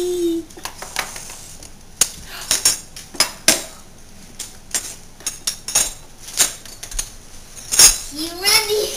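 Cutlery and dishes clatter as a dishwasher is emptied at home, with sharp metallic clinks and knocks in an irregular rhythm, close and fairly loud, while a voice and an adult's voice speak in between.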